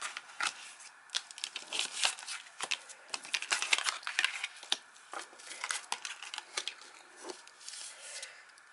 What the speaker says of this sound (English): So let's turn these cards around so you can see these beautiful cards.